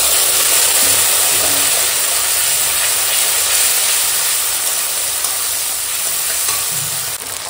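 Onion and green chilli fry in spiced oil, then tomato and ginger-cumin paste go into the pan, giving a steady close sizzle and hiss with soft stirring scrapes throughout.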